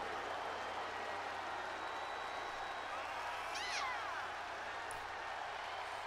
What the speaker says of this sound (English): This crowd's booing the hell out of her.